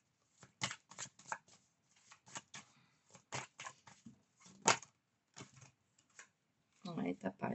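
Tarot cards are shuffled and drawn in quick irregular bursts of papery flicks and slaps, close and fairly soft, with a voice speaking briefly in French toward the end.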